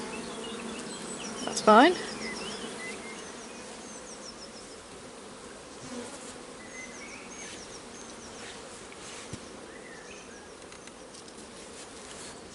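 Honeybee drones buzz around an opened hive in a soft continuous drone, with one brief louder swelling buzz close by early on and a short spoken remark.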